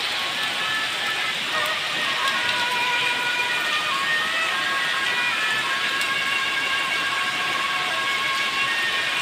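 Rain falls steadily outdoors, a continuous broadband wash of drops that stays constant and fairly loud throughout, with no talking.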